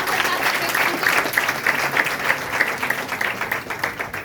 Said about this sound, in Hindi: सिद्धार्थ सर के एक बार जोरदार तालियां